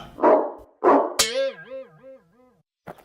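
A very large cartoon dog in an animated comic story gives two rough, loud barks, then a wavering, howl-like whine and a brief final yip.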